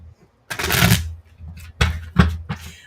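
A deck of cards is shuffled before a reading, with a long riffle followed by several shorter, sharper riffles and taps, close and fairly loud, with no talking.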